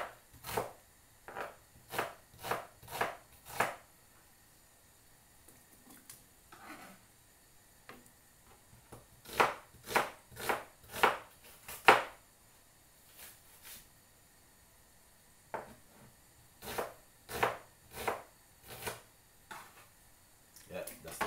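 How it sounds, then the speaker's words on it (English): A knife chops a medium white onion on a board in bursts of quick, crisp strokes separated by pauses, close and fairly quiet. "Just cut up the white onion and put it straight inside of it."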